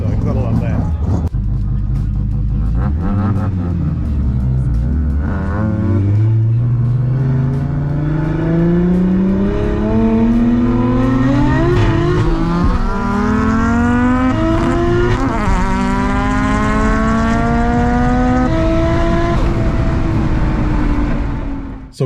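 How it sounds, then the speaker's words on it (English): A Toyota Chaser JZX110 or similar car thrashed hard around a race track, engine revving and climbing through gears in long rising sweeps, loud and fairly close, with a brief drop between shifts before pulling up again. "Guy out there thrashing on the track"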